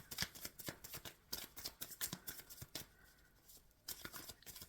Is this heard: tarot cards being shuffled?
yes